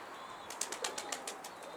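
Pigeons take off from a rooftop with a quick run of soft, rhythmic wing flaps, faint and a little distant, and no voices nearby.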